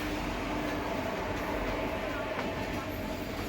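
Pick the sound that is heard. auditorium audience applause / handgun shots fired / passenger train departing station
passenger train departing station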